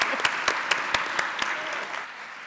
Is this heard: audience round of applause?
yes